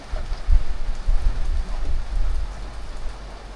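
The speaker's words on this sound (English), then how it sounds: "May the rain stop at some point." Steady rain at a lakeside campsite in the Jura, drumming on a nearby surface, close and continuous with slight swells, no voices.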